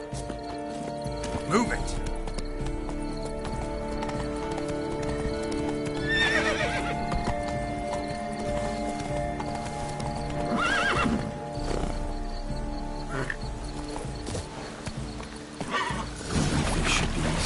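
Horse hooves clop rhythmically across ground in The Witcher 3: Blood and Wine, with several neighs and whinnies rising over the hoofbeats and a voice speaking briefly between them.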